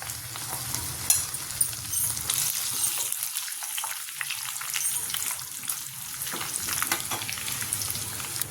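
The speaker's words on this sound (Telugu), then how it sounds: "ఇప్పుడు మనం ఈ కాజు కూడా వేసేసుకొని ఎండుమిర్చి కూడా వేసేసుకున్నాం" Cashews and dried red chillies fry in oil for temple-style pulihora, giving a steady crackling sizzle with occasional stirring scrapes and pops, close up and moderately quiet.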